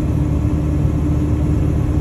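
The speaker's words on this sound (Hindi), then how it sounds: "अपने ट्रक की आवाज देखो इंजन ब्रेक की" A truck's engine brake on an Arizona highway makes a steady, loud low rumble that continues without a break, with no voices over it.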